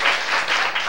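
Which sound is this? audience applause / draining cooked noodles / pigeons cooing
audience applause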